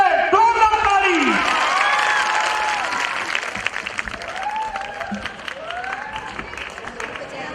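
An audience applauds at a Shri Ramji temple consecration festival in a village, with sustained clapping and crowd noise layered with voices and whoops throughout.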